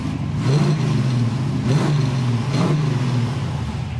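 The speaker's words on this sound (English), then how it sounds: "Great sound and dual exhaust." Big-block 502 V8 in a 1968 Chevrolet Camaro RS with dual exhaust revving in three or four throttle blips over a lumpy idle, loud and close with no talking.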